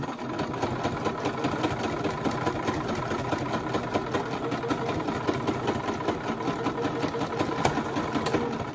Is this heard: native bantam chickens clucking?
no